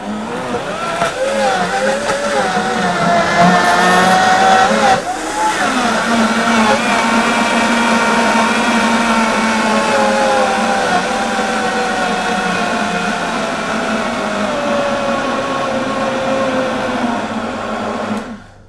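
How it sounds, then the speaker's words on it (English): An Optimum blender running on low while blending bananas for crepe batter, a loud, steady whirring motor drone that shifts pitch after a few seconds as the blades catch the fruit, then holds until it cuts off. "Make sure your blender's on low, flick it on."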